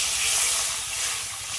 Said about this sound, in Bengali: আর কড়াইতে জল দিয়ে দেবো